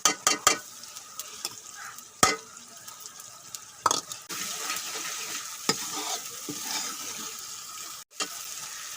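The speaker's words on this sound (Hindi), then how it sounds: "अच्छी तरह मसाले को फ्राई करेंगे" Spices and chopped tomatoes frying in a pan for keema dal with beef mince: a soft continuous sizzle punctuated by sharp spoon scrapes and knocks against the pan, close by, with no one talking.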